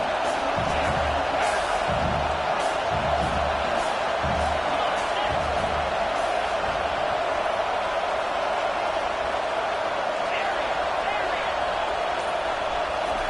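Stadium crowd at a college football game roaring steadily behind the defense on a big third down, a dense loud wall of cheering with rhythmic thumping, under commentary.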